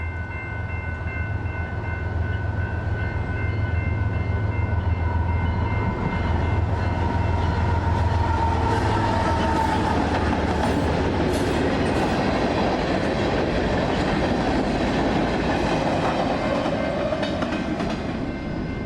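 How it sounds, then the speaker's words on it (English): A GE Evolution (Gevo) locomotive hauling maintenance-of-way equipment rumbles past steadily with a deep engine drone, rolling wheel clatter and metallic squeals building in the middle, loud and close throughout. "The next train was maintenance of way equipment being hauled by a singular Gevo."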